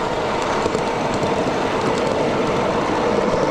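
G-gauge model train running on an outdoor layout, a loud continuous rolling rumble and rattle close by, with no talking.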